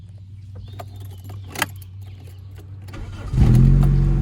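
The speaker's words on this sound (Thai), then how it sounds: "มาฟังเสียงเครื่องยนต์กันดีกว่าครับ" A Toyota car engine cranks and catches, rising into a loud idle after some clicks and faint rattling, nearby with no talking.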